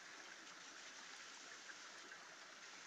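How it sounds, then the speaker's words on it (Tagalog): Steady rushing of a strong stream flowing, a constant broadband wash with no pauses, fairly faint and distant. "medyo malakas na po yung tubig kumpara nung nakaraan"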